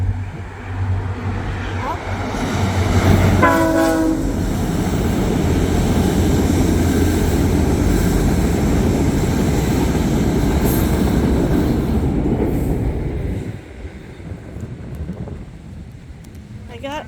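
A train crosses the railway bridge above Kingston Mills Locks on the Rideau Canal, its heavy, steady rumble and rattle filling the air for about twelve seconds, with brief wheel squeal early on before it fades to quieter ambience.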